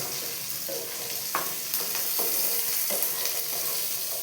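Small shallots and garlic sauté in a pan for a garlic gravy, giving a steady, moderate sizzle with scattered scrapes and clinks from stirring, with no talking.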